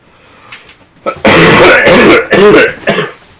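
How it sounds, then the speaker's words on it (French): A burst of harsh, throaty coughing close to the mic, several rough hacks in quick succession after a quiet moment. "Je tousse, c'est pas de ma faute."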